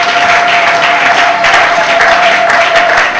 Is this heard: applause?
yes